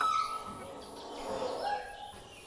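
Pet myna birds give a few whistled calls close by over faint background murmur, with one clearer rising call partway through.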